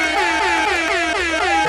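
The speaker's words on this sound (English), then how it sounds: "You about to get the air horn." A loud, blaring air horn blast, held with wavering pitch for a couple of seconds, harsh and close.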